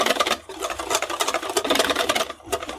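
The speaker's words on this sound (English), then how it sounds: "You can hear it whisk." Thin, watery pancake batter being whisked by hand in a bowl, a quick, close sloshing and tapping rhythm with a brief pause near the end.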